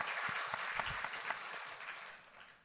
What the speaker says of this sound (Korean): 우리 큰 박수 부탁드리겠습니다